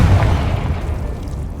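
A Confringo fire spell detonates in the Hogwarts Legacy video game, giving a loud, deep boom with a rumbling low tail that fades slowly over about a second and a half.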